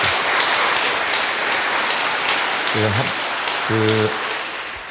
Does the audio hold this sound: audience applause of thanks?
yes